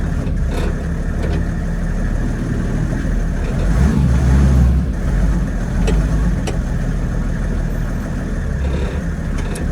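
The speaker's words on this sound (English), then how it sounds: "I'm going to have a quick whiz up the road" A 1948 Dodge B1 pickup truck with an OM606 turbo diesel engine being driven, a loud, close engine drone with a swell in power midway, plus rattles and knocks from inside the cab.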